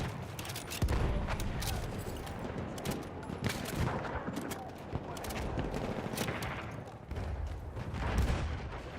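Battlefield 1 firefight with dense, overlapping gunfire and booming blasts rolling continuously, loud and close, with scattered faint voices mixed into the battle noise.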